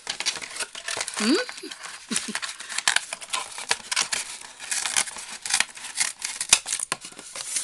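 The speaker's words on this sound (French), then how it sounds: "C'est difficile de couper en rond." Scissors snip through a piece of foam rubber to cut a circle for a homemade children's game, producing close, irregular crinkly cutting and rustling sounds in quick uneven bursts, with brief faint voice sounds.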